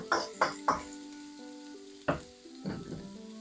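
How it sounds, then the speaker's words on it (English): Thinly sliced, unmarinated beef sears in a wok for beef in black bean sauce, with several sharp metallic clanks of a utensil on the wok over a light background sizzle and a lingering ringing tone. "You can let that sear on one side."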